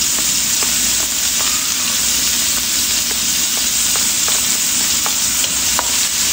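Garlic, onion and scallions sauté in a hot pan with a loud, continuous sizzle, broken by brief scrapes of stirring.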